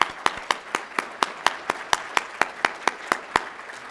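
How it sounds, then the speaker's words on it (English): Sharp, evenly spaced claps ring out one after another, a single pair of hands clapping in a steady rhythm rather than a crowd. "Once again, a round of applause."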